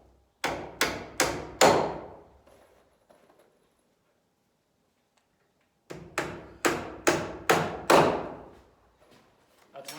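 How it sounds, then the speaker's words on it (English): Hammer strikes drive 2-inch nails to fasten a pocket door clip to a wooden stud: a run of four sharp blows, a pause, then five more, loud and close. "Now I take these 2-inch nails and I fasten this clip to this stud."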